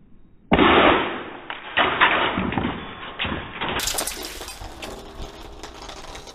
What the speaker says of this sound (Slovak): a teraz si ukážeme Tornado granát v akcii